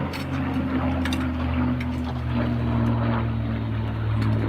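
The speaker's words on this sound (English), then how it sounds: "The Spitfire flying over." A radio-controlled model Spitfire plane passing overhead, a steady droning engine and propeller tone held throughout, loud and unbroken, with no talking.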